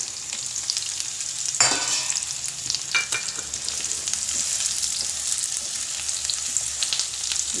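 Jaggery and amla segments cooking in ghee in a pan, a continuous bright sizzle with a couple of scraping stirs near the start, close and without talk.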